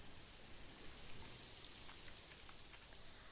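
Steady rain falls in the zoo-building video game Planet Zoo, a soft, even hiss with faint scattered droplet ticks, constant and fairly quiet throughout with no voices.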